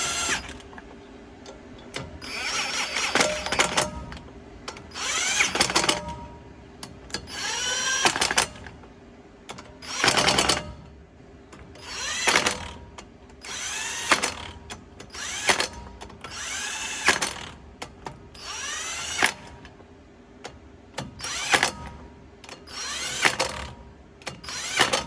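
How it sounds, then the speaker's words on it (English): An impact wrench runs down bolts on the sheave of a Gleaner R72 combine, firing in a long series of short rattling bursts with brief gaps between them, close by. "I'm going to use the impact just to take and run the bolts down"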